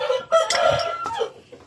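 Hen clucking while being placed in a cage, a few close, sharp, agitated clucks and squawks in quick succession.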